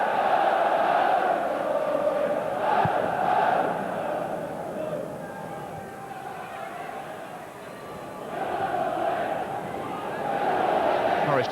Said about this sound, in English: Crowd here trying to lift them.